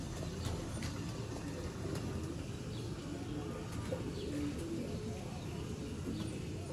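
Sialkoti pigeons cooing at a breeder's loft, soft repeated coos over a steady background hum, with no talk.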